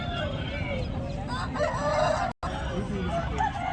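A rooster crows loudly at a busy country chicken market in Guntur, Nallapadu, over constant clucking and crowd chatter, with voices talking nearby.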